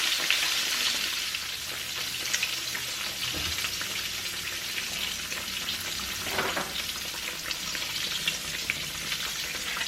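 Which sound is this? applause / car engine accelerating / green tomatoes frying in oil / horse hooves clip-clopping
green tomatoes frying in oil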